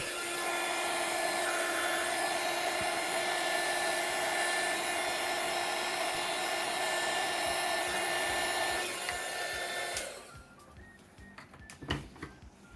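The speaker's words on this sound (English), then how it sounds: "I apply the heat shrink and heat with the hot air gun." A hot air gun blows a steady, loud roaring hiss while heating heat shrink tubing over wires for a bike light battery pack, then cuts off abruptly, leaving quiet handling clicks.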